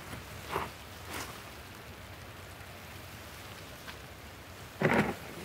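Steady rain falls across the whole stretch on a crappie fishing outing, a soft even hiss with a few brief louder bumps and splashes near the end.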